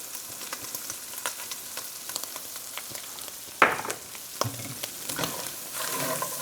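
Browned sausage frying in a pan, a steady close sizzle with light crackling and a few spatula scrapes and knocks, one sharper clatter midway, no voices.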